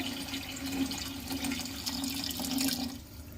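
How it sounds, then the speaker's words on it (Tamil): Water pours in a steady, continuous splashing stream into a pot of rice for biryani, about one glass of water for each glass of rice, with no talk over it. "1 கிளாஸ் அரிசிக்கு வந்து 1 கிளாஸ் தண்ணி வந்து ஊற்ற போகிறோம்"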